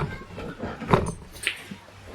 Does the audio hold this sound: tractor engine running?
no